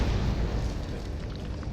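A remote bomb explosion in Resident Evil 7: Biohazard in VR, a brief, heavy rumbling blast that fills the short moment with broad noise and fades slightly toward the end.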